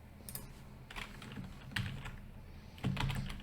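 Computer keyboard keys click in a few quiet, irregular taps, pressing Ctrl C at a terminal.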